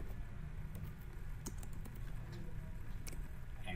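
Keystrokes on a computer keyboard, a steady run of light clicks at close range over a low background hum, with no voices.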